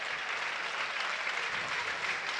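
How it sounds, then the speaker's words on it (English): Premier League football crowd at Burnley applauding as the players come out, a steady wash of clapping with faint voices. "Listen to the crowd reaction as they come out."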